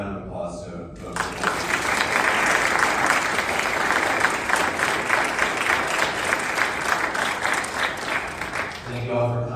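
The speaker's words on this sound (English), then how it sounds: "Give a round of applause to both." A live audience at a misinformation panel claps for the panelists: loud, dense, sustained applause that starts abruptly after a brief voice and fades out as speaking resumes.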